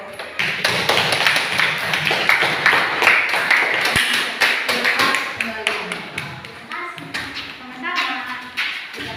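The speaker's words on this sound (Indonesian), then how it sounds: "Ya, tepuk tangan dulu." Audience clapping after a group dance presentation in a university dance class, sustained applause of many hands close by, with a voice speaking over it.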